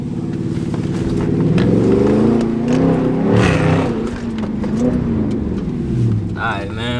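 A Chrysler 300 SRT's engine idles and blips loudly close by, its exhaust giving low rumbling burbles that rise and fall, with people talking over it.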